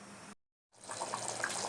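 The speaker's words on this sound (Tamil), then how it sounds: "எவ்வளோ சூப்பராக கொதிக்குது பாரு." Tomato sambar simmers in a pot at home, giving a steady hiss of bubbling liquid that starts after a brief silent gap and continues close and fairly loud to the end.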